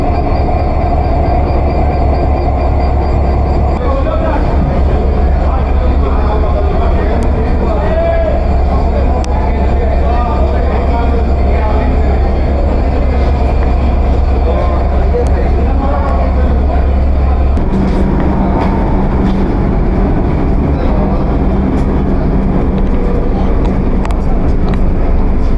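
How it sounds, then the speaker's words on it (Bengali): The Dhumketu Express, pulled by a BEP 32 broad-gauge diesel-electric locomotive rated at 3200 horsepower, departs Dhaka's airport railway station with a loud, continuous rumble of engine and rolling wagons that lasts throughout, with wind buffeting the microphone. "ট্রেন 10 মিনিট লেটে বিমানবন্দর রেলওয়ে স্টেশন ত্যাগ করল"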